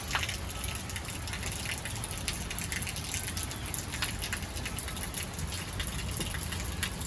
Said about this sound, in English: Anyway, it's nice little rain,